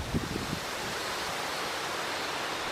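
Steady wind blows through a tree in gusty weather, a broad, even rush that stays constant for a few seconds, with a few low bumps at the start and no voices.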